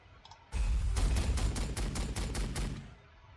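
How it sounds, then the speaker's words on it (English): Rapid burst of hotshot las gun fire from Warhammer 40,000: Sanctus Reach, a dense run of sharp, loud repeating shots lasting about two and a half seconds before cutting off. "Some hotshot las guns in the back."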